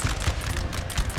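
Rapid crackling musket volleys from French cavalry firing point blank into a Prussian line in Napoleon: Total War, a dense burst of overlapping distant shots.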